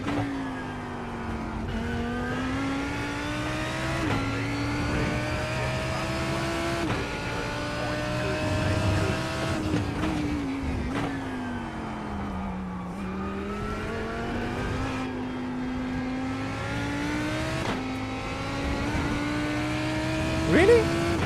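A race car in the iRacing sim gives a sustained engine drone with a compressor whine that rises and falls as the car accelerates and lifts through corners.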